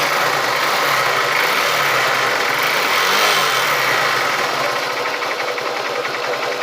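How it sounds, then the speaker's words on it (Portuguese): Honda Titan 150 motorcycle engine running with an abnormal mechanical noise despite a replaced cam chain and guide, a steady close idle with fast ticking rattle throughout, no talking. "E o barulho da moto é esse aí, ó."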